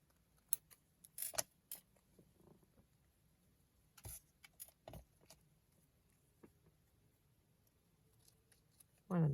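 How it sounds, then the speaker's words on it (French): Scissors snip through paper from toilet paper rolls for a junk journal, giving a few short crisp cuts scattered among quiet handling noises, close and fairly soft. "On va découper ce qu'il y a en trop."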